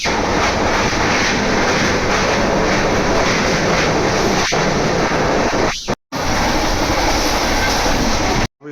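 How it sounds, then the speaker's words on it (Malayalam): A train running at high speed, about 100 km/h, heard steadily and loudly from close by as a continuous rumbling roar with clattering wheels, broken by brief dropouts near the end. "വളരെ സ്പീഡിലാണ് ട്രെയിൻ"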